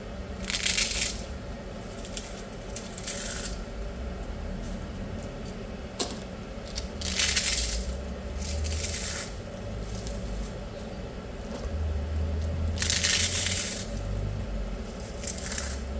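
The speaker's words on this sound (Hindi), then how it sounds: "सबसे पहले आप ये पापड़ी की आवाज़ सुने ज़रा" Crisp fried papdi crackers crunch and crackle in repeated bursts, close and fairly quiet, with rustling between the bites and no talking.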